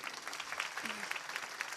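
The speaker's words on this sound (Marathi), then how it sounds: "टाळ्या वाजवा ना जोरदार." An audience claps together at an Ekadashi kirtan led by a singer, a soft, steady patter of many hands from some distance, with a brief voice underneath.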